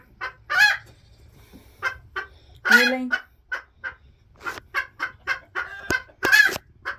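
A hen named Miss Cackle clucks in short, loud bursts close by in a backyard coop. A person asks a brief question between the calls.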